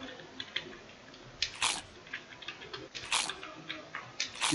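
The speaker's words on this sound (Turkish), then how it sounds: "Bir ısırma sesi." A crunchy bite effect from a JavaScript browser game plays twice, a short crisp crunch each time, faint and close over a low room background.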